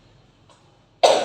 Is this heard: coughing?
yes